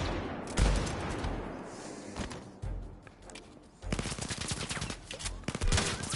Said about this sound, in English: Shotgun doesn't seem as good as the pistol,